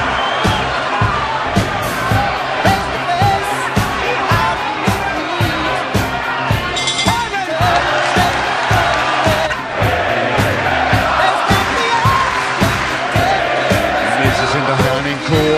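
About 10,500 spectators roar steadily in the Messecenter Herning arena during a boxing match between Mikkel Kessler and Carl Froch, loud and sustained with rhythmic claps and chants throughout, and a commentator talking over the din.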